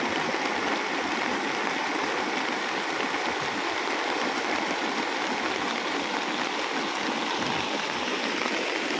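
Constant rushing floodwater overflowing onto a road, a steady broadband roar with no pauses and no voices.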